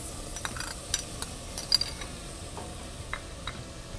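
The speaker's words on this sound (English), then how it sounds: "So once we have this turkey meat and the beef thoroughly cooked, we're gonna go ahead and add some diced onions" Ground turkey and beef with diced onions fry in a pan, giving a steady low sizzle with a few light scrapes and clinks of a utensil against the pan, close and alone with no talking.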